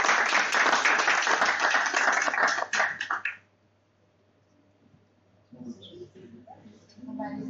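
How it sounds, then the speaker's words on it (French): An audience at a French-speaking event gives a final round of applause: dense, loud clapping for about three seconds that stops abruptly, then a pause before people start talking. "un dernier applaudissement pour vos réactions"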